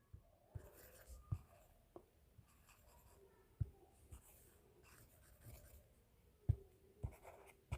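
A pen scratches by hand across paper in quiet, close strokes, broken by occasional soft taps and pauses, with no talking.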